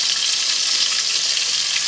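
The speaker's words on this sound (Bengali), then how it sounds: "পেঁয়াজটা অল্প একটু ভেজে নেবো আমি তেলের মধ্যে" Chopped onions fry in hot oil in a village kitchen, filling the air with a loud, close, steady hiss of sizzling that carries on without a break, with no talking.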